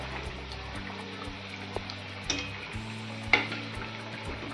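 Vegetable tikki frying golden brown in oil in a pan, a quiet even sizzle with a low background hum, a few soft taps and one sharper clink, heard up close without speech.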